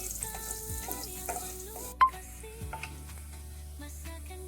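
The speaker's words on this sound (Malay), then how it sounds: "Kita tumis bawang putih ni sehingga kekuningan ya" Garlic sautés in a thick pot with a quiet, low sizzle, punctuated by a sharp clink of metal and a few soft stirring scrapes.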